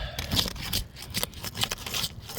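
Scraping and tearing sounds come in short irregular bursts, close by, as a roofing tool slides under shingles and rips matting.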